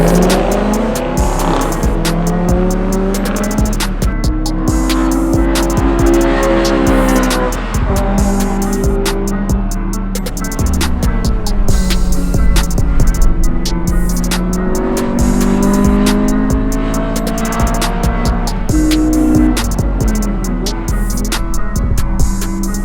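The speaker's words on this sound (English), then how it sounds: "we watch Christian hopefully do a good lap and maybe set like a 208" A Honda S2000 race car on a time attack lap roars steadily at high revs, its engine note climbing through the gears and dropping on each shift, with tire noise, close and loud throughout.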